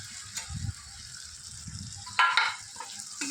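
Poppy seed and cashew paste frying in oil in a pan, a soft steady sizzle with occasional scraping stirs and a brief louder burst of spattering near the end.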